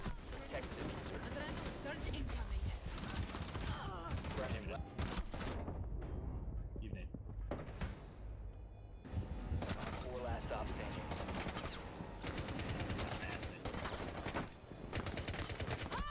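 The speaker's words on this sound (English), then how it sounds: "All I do is shoot." Rapid gunfire in the video game Rainbow Six Siege, dense bursts of shots repeating throughout, with brief lulls and game sounds mixed in under and around a player talking.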